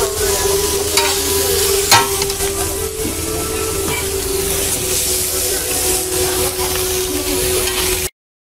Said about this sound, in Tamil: மீனை தாங்க வந்து பார்த்தீங்கன்னா தோசைக்கல்ல போட்டு ஃப்ரை பண்ணிகிட்டு இருக்காங்க